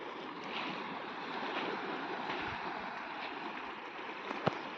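Sea waves wash over and crash against rocks at Wandoor beach in the Andaman Islands, a steady, fairly faint surf roar with a small splash near the end and no talking.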